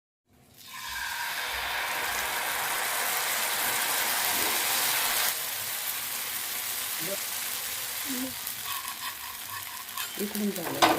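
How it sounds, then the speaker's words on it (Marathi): Oil hits a heated tawa griddle and breaks into a loud, steady sizzle that swells then settles into a softer crackling hiss, with faint clinks and movement near the end. "इथे तवा गरम केलेला आहे आणि त्यावर टाकतोय आपण थोडंसं तेल."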